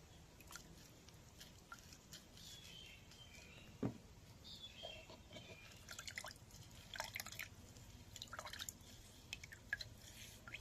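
Kaffir lime juice squeezed by hand into water, heard as faint, scattered drips and small liquid splashes with soft squishing, close but quiet against a low background hiss.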